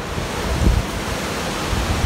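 Wind blowing hard during a storm in a native reserve in Traslasierra, a steady roaring rush with gusty swells, close to the microphone and with no voices.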